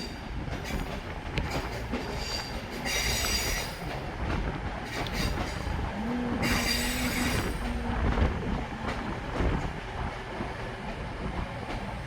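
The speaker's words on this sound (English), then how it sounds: "now arriving in is going to be a terminating cross-country service from Bristol Temple Meads" A CrossCountry Class 221 train arriving from Bournemouth pulls into Manchester Piccadilly, a steady rumble of wheels and engine with shrill bursts of wheel squeal, heard fairly close on the platform.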